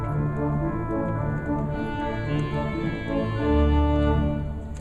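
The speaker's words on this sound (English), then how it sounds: "we have a couple of different oboes on the organ that sound like this" Oboe stop of a theatre pipe organ in Ohio playing a short melodic phrase of sustained, nasal reedy tones, with a lower held note swelling louder near the end.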